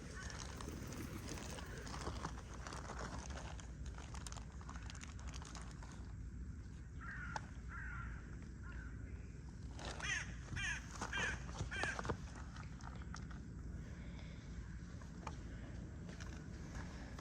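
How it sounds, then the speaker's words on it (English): Crows caw several times at a moderate distance, their harsh calls coming in short clustered bursts amid steady outdoor background noise. "Something scared the crows."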